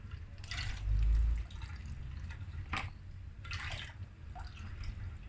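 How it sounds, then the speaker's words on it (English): Coconut milk is squeezed from grated coconut soaked in warm water and then sieved, giving soft, wet splashing and dripping trickles in short bursts at close range, with no talk. "So we are squeezing out the milk from the coconut"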